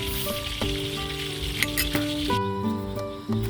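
Catfish frying in hot oil, a dense continuous sizzle and crackle, loud and close throughout, with faint tonal hums underneath.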